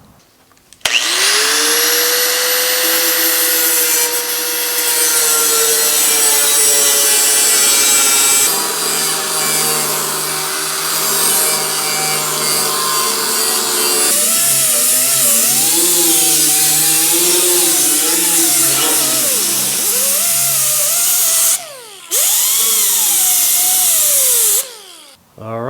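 Power cutting along a trimmed line on a GTO car fender, a loud continuous high-pitched whine and grinding that holds steady, then wavers and shifts pitch as the blade moves along the metal, with brief pauses near the end.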